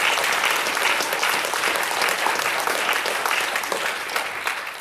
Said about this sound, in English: how about a big round of applause for all of our panelists?